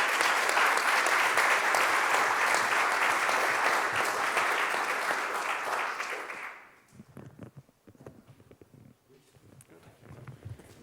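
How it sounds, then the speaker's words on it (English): Conference summit audience giving a big round of applause, a loud, dense clapping roar sustained for about six seconds before fading out, followed by quieter room noise and scattered sounds. "Big round of applause for all of the people that have contributed."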